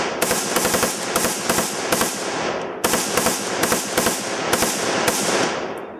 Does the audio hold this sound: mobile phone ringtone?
no